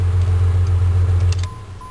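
A truck engine idles with a steady low rumble, then cuts off at about one and a half seconds, leaving a faint fading hum; close and loud.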